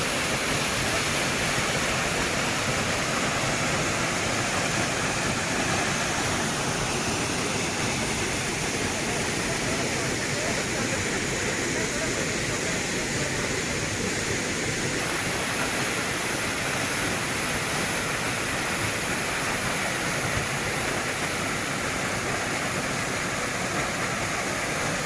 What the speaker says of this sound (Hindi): देखो वाटरफॉल